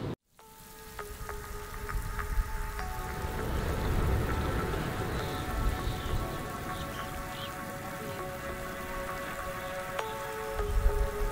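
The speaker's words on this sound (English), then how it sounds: "it started raining while we were on our scooter" Steady rain patters on surfaces in Rarotonga, Cook Islands, a dense close hiss of drops that builds after a brief quiet start and continues throughout, with faint tonal background hum.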